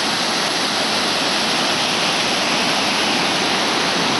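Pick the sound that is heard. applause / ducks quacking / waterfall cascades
waterfall cascades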